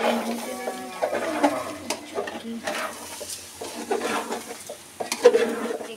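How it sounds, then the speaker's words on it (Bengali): Rice being stirred as it fries in a pan for biryani, with scraping and clinking of a utensil against the pan over a soft sizzle, in uneven bursts close by. "দেখি আমি একটু নাড়া দিই এই পাশে"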